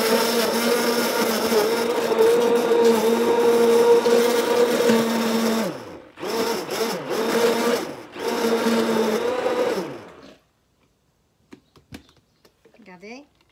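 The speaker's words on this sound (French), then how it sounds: "Je vais mixer. Faut pas que vous entendiez le bruit." A Vegan Milker machine blends flax seeds and water into milk with a loud, high whirring motor that runs, briefly stops and restarts twice, then cuts out, leaving faint clicks and handling noises.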